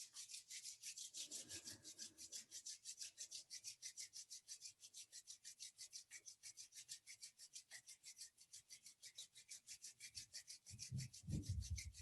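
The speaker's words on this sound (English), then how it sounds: "let's soothe the nervous system by rubbing the palms against each other" Palms of the hands rubbed briskly together in a steady, even rhythm of soft swishing strokes, close and quiet, with a faint low rustle near the end.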